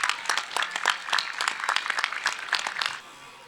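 A crowd applauds to honor a handball coach at a tribute tournament, a quiet scattering of distinct claps in a loose rhythm that stops abruptly near the end.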